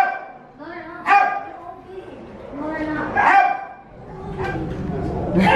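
Several large dogs bark and yip in short bursts at an animal shelter, close by, mixed with whimpers and some overlapping human voices.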